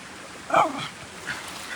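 A dog gives a short yip or whimper at a property in Guatemala, one brief sharp sound followed by a fainter second cry, fairly close.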